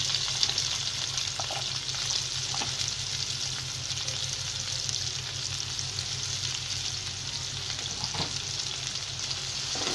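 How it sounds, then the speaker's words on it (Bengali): Chopped onions, about half a cup, fry in hot oil in a pan, giving a steady, close, loud sizzle with faint stirring scrapes and no talk. "আমি প্যানে তেল দিয়ে দিয়েছি, এর মধ্যে আমার তেলটা গরম হয়ে আসছে। আমি এখন এর মধ্যে আধা কাপ পরিমাণ পেঁয়াজ কুচি ছেড়ে দেব।"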